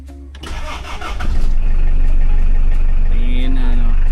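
A Toyota LiteAce with its stock muffler cranks and catches, then settles into a loud, steady mid-pitched idle close by, with a brief voice over the starter at first.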